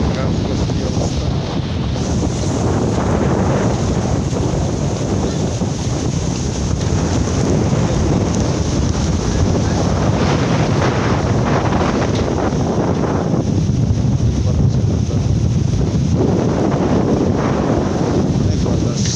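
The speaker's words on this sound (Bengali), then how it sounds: "অনেক বাতাস।" Strong wind roars steadily into the microphone outdoors among trees, a loud continuous rushing buffet that surges and eases in waves without letup.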